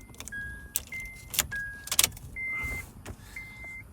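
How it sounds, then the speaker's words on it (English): Honda car ignition switched on with its original key, giving a series of close electronic beeps and chimes alongside sharp key and switch clicks inside the vehicle, with no talking. "Let me turn the ignition on with the existing key."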